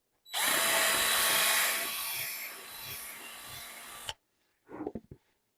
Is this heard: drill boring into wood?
yes